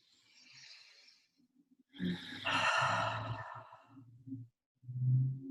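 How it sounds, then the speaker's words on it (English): A slow, deep breath in and out during an Emotional Freedom Technique tapping session, close and clearly audible, with a soft airy inhale and then a fuller, louder exhale with a slight voiced tone. "I'm taking a deep breath into now."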